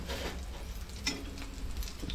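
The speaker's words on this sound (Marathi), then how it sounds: "असे सगळे परतून असे घेऊन फ्राय करून घ्यायचे" White anchovy (Malvani-style yerle) fish frying in a pan, a faint, steady sizzle and crackle with occasional stirring scrapes, no talking.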